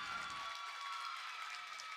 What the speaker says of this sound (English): as she gets a nice round of applause